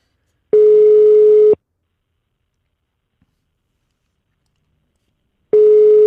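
A telephone call to a supermarket plays a steady tone for about a second, then silence for four seconds before the same tone starts again. It repeats like a regular ringback pattern and comes through clear and loud.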